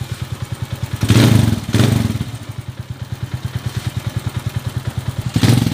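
A Honda TMX125 Alpha motorcycle converted to 175cc runs on a road test, its single-cylinder engine thumping steadily with three louder rev bursts near the start and end, close and with no talk.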